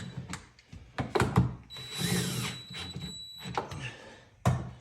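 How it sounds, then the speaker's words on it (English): A power drill tightens bolts while a Tesla Model 3 park sensor is installed, several short whirring bursts with a longer buzzing run in the middle, plus knocks and handling thuds nearby. "now I'm gonna tighten all the bolts because everything's lined up"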